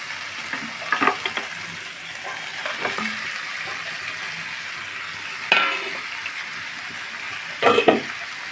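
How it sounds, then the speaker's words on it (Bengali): Vegetables and koi fish frying in spice paste for a curry give a steady low sizzle, with a few louder scraping stirs near the start, middle and end. "এখন সবজিগুলো আমি একটু সময় নিয়ে ভাজবো"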